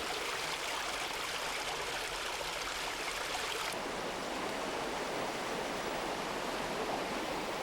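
A mountain valley stream in the upper Nakdong River, south of Taebaek Mountain in Bonghwa during April snowmelt, rushes and splashes in a steady, full, broadband flow with no voices.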